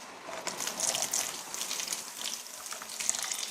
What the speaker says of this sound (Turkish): Döküyorum şimdi suyumuzu